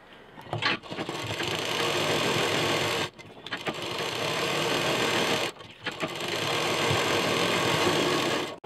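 Sewing machine stitching the sides of a potli bag, three long continuous runs of rapid mechanical whirring separated by short pauses, close and clear with no speech.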